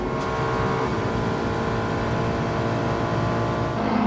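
United Autosports McLaren race car, number 59, on a quick qualifying lap at the São Paulo 6 Hours endurance race. A steady, loud engine roar runs continuously throughout, with no talk over it.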